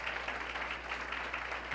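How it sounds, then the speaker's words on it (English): Steady applause from a neighborhood conference audience, a dense even wash of many hands clapping at moderate loudness with no voices on top. "let's give a round of applause for everybody's national night out this year"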